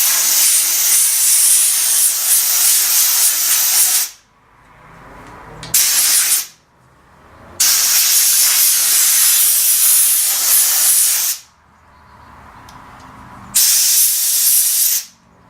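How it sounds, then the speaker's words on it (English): Compressed air blasts through the bar groove of a chainsaw during home maintenance: four loud, sustained hissing bursts of several seconds each, with short quiet gaps between them and no talking. "take the air, compressed air, and run it through the groove"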